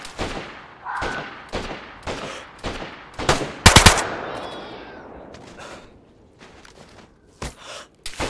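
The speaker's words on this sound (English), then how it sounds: "And they're shooting at me" Bursts of gunfire from the survival game DayZ, set in winter, crackle repeatedly across the scene, with one loud close volley amid scattered distant shots and faint footsteps.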